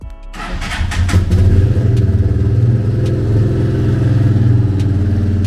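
A Vento Cyclone 200 single-cylinder motorcycle with a high-flow HPF exhaust starts up and settles into a loud, steady, throbbing idle close by, with a few light clicks over the running engine and no talk.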